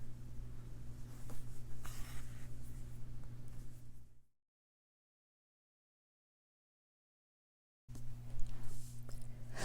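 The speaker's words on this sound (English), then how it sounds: "So I'll continue stitching all the way around, filling up this area" Embroidery thread is pulled by hand through taut fabric on a barn owl design, making soft close scratchy draws and light taps, with a few seconds of dead silence midway.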